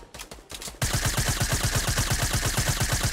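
Rapid, steady assault rifle fire in Fortnite Battle Royale, loud and close, a continuous chattering stream of shots that starts abruptly after a short quieter lead-in.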